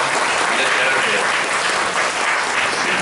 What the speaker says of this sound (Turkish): biz alkışlarımızla sizi uğurlayalım.